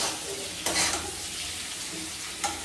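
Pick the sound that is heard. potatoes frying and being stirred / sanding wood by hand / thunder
potatoes frying and being stirred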